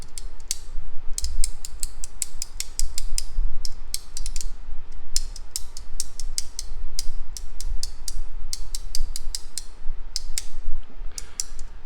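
An Oreo haptic coin fidget toy clicks and ratchets in rapid, uneven bursts of crisp mechanical ticks, close and steady for the whole stretch with no talking.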